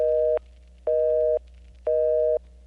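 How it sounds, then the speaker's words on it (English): Busy signal on the old analog telephone network: three evenly spaced, loud steady tone bursts about half a second long with equal gaps, faint crosstalk murmur underneath. "is a busy signal, and in the old network, busy signals often had some crosstalk"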